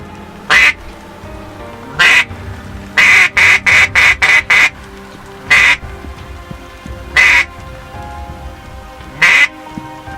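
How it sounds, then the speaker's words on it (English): A hen mallard quacks repeatedly outdoors, with single calls and then a quick run of five or six quacks, over steady rain pattering in the background. "we just had a hen mallard come in"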